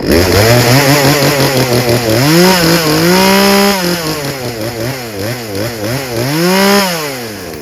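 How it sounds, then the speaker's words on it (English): A Craftsman 16-inch 38cc chainsaw engine runs loud and close, its pitch revving up and down in repeated swells without pause. "Chainsaws don't usually run so good."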